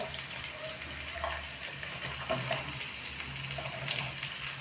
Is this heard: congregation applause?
no